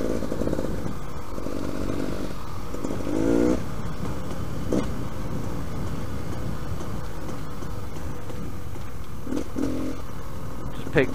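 A Beta Xtrainer motorcycle on a slippery lane ride gives a steady, loud engine drone with a few brief revving surges and gear changes, close up, with some talk over it.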